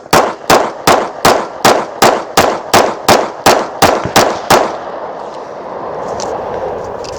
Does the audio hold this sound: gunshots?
yes